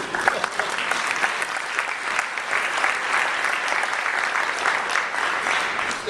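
Steady applause from a lecture audience at a Latino policy forum, dense and continuous clapping that fills the room for several seconds without a break.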